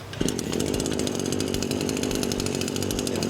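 A small two-stroke brush cutter engine runs steadily at a constant idle-to-mid speed, a buzzy, continuous drone close by with no pauses.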